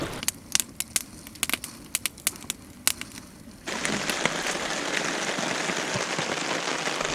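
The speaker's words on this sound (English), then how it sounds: "This rain just does not want to quit." Steady rain falls in the backcountry, starting as scattered close drips and patters before swelling into a dense, continuous wash of rainfall with no voices.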